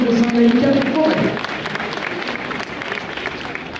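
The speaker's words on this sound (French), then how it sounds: "Alors vos applaudissements pour lui souhaiter la bienvenue à Alexandre Saint-Aïka des Forêts." Audience applause welcoming a rider and horse at an equestrian show in Saint-Lô, a broad wash of clapping that runs throughout, with a voice over it at the start.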